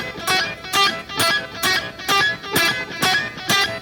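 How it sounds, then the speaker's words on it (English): Guitar played with alternate picking, notes choked off short, giving a choppy, evenly spaced run of about eight clipped plucks, close and clear with no voice. "You can hear how the note is getting choked out every single time"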